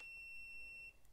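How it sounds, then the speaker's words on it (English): A Nice Digi smart lock keypad gives one clear, steady electronic beep lasting just under a second, close and alone in a quiet room. "our beep is back"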